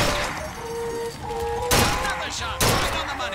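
Two loud, sharp gunshot bursts ring out from a gun in the video game BioShock Infinite, punching through continuous game ambience and music tones.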